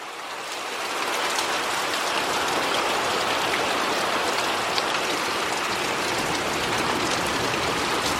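Heavy rain pours down steadily during a thunderstorm, a dense continuous hiss of drops close by that swells after the first second and holds loud and even throughout, with no voices.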